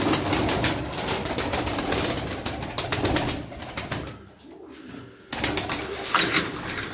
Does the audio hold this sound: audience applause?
no